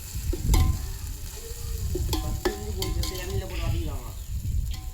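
Ginger-garlic paste frying in hot oil for biryani, a loud crackling sizzle with spoon scrapes and knocks against the pan, and a clanging metallic sound now and then.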